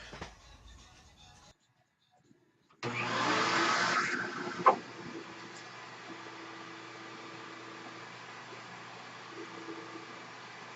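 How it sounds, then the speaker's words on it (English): A vacuum cleaner starts up with a loud whooshing roar, then settles into a steady, slightly quieter drone that carries on nearby. "Time to vacuum."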